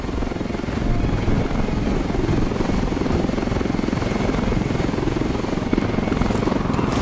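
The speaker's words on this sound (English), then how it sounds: "base jumping from the helicopter" Continuous heavy whir of video game helicopter rotors and engine in Ghost Recon Wildlands, loud and close, with a steady chopping rumble throughout.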